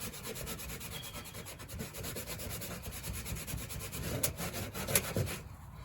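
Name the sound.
scrubbing rust stains off aluminum mobile home siding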